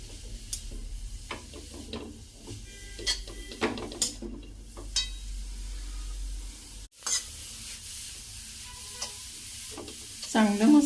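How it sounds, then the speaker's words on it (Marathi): Grated carrots sauté gently in ghee over low heat, a soft steady sizzle under repeated scraping and stirring strokes of a spoon, with a short break midway and louder rattling at the close. "छान मस्त मंद आचेवर परतून घ्यायचे"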